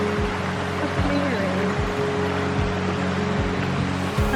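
Water gushes steadily down a stream at a waterfall in the lush Northern Black Forest, a continuous loud rushing wash, with a voice briefly audible over it.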